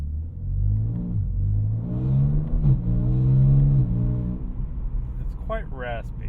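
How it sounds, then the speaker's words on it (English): BMW G80 M3 Competition with a custom valved exhaust accelerating while short shifted, a raspy low engine note rising and falling through gears, loud and close, with someone talking over it. "It's quite raspy at that low end, but I'm really short shifting it at this point."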